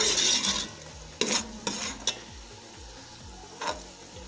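Potatoes and peas being stirred into frying spices for an aloo matar dish, a soft steady sizzle with several sharp scraping clinks of a spoon against the pan, no talking.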